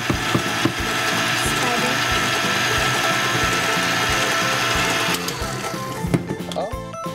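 Electric mixer beating cookie dough in a home kitchen, a steady loud whirring and rattling that runs for several seconds, then cuts out near the end, with voices talking over it.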